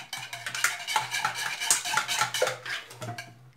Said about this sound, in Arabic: نخلط مليح